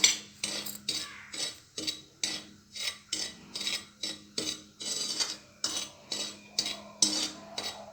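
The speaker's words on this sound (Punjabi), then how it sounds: "ਆਪਾਂ ਸੂਜੀ ਭੁੰਨਦੇ ਆ ਇਹਦੇ ਵਿੱਚ ਆਪਾਂ ਬਦਾਮ ਪਾਵਾਂਗੇ" Semolina with almonds is stirred in a pan while roasting without ghee for sooji karah, a regular series of close, dry scraping strokes roughly once every half second, with no talking.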